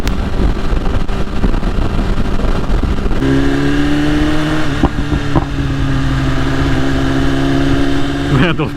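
A BMW S1000RR sport bike fitted with an Arrow exhaust header runs loud and close, its engine drone steadying into a held rev with a few sharp pops and crackles from the exhaust.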